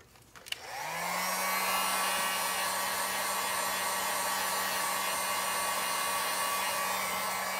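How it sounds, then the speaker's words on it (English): A heat gun shrinks a plastic heat-shrink sleeve over wires during a Foxbody EGR delete install. After a brief click and fumble, a loud, steady blowing whoosh comes on and holds evenly close by, with no talking. "Be sure not to hold your heat gun in one place or it can burn through the plastic sleeve."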